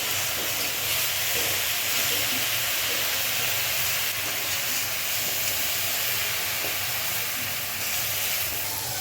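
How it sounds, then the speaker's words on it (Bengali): Greens with salt and turmeric frying in a pan, producing a loud, steady, hissing sizzle that runs unbroken throughout with little change. "এখন সবগুলো নাড়াচাড়া করে নেব।"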